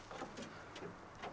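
Young pigeons coo softly inside a loft, a few brief, faint murmuring calls spaced across a quiet moment.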